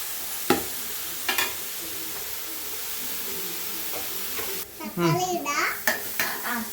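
Shallots and onions for a chicken curry sizzle in a pan with stirring scrapes and faint hiss, close up, while people speak briefly near the end.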